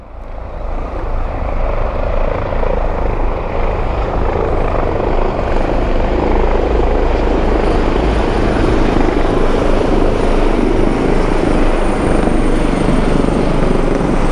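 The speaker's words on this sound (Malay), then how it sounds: "helikopter." A helicopter passes close overhead with a loud, steady thudding rotor roar that holds strong throughout, no voices.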